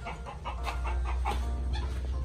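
A hen clucks in a quick series of short, repeated calls over a steady low background hum, fairly close.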